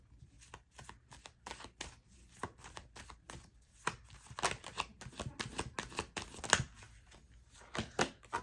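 Tarot cards are shuffled near the mic as a fast run of crisp riffling snaps that grows busier and louder toward the end. No voices are heard.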